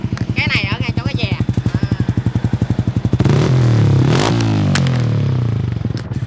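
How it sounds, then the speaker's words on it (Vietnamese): Yamaha Exciter 155 VVA motorcycle fitted with a REDLEO exhaust, idling with a steady loud pulsing thump before revving up sharply, the engine note rising and falling close by. "Tiếng bô ấm và lực hơn rất nhiều nha bạn"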